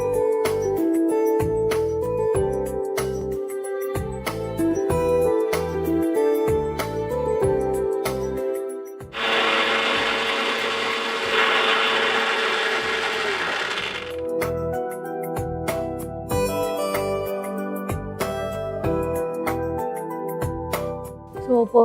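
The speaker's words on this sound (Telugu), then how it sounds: "ఇది ఇప్పుడు మనం మిక్సీ పట్టేస్తాం" A mixer grinder grinds soaked foxtail and finger millets with a little water into batter, a loud continuous whirring burst running about five seconds mid-clip between rattling, clinking kitchen handling sounds.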